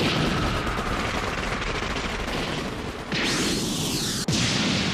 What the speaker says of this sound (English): Keep firing at it till you run out of shots!